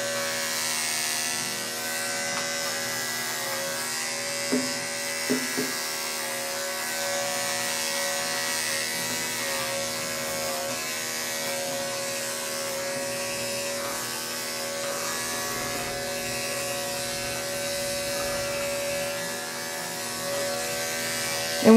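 Electric dog clippers fitted with a 1/4 inch guard trimming a dog's coat for summer, a steady close-up buzzing hum running continuously with faint brief clicks and no talk.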